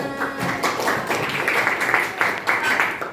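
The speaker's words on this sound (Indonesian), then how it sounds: "Tepuk tangan kita semua." A classroom of students clapping together after a math lesson answer, a fairly steady patter of applause with a teacher's voice partly over it.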